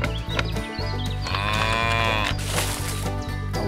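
Cows mooing at a cow barn on a farm, long harmonic calls rising and falling over a steady loud background of music-like tones, no talk.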